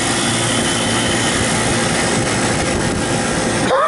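An old rooftop condenser fan motor on a convenience store roof, a three-speed unit set to medium, whirs steadily and loudly like an engine, close by and alone, with a rising tone change right at the end.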